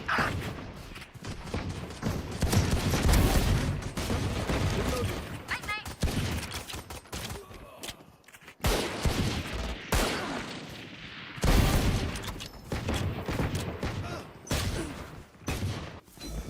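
Rapid gunfire in the tactical shooter Valorant during a pro match, dense volleys of shots and weapon mechanics running almost continuously, with brief gaps and an excited voice talking over it.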